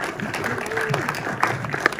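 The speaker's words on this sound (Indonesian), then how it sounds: "boleh berikan tepuk tangan sekali lagi teman-teman" Applause from the press and guests at a film press conference for the Indonesian film Romeo Ingkar Janji, with scattered claps and some voices and room noise mixed in.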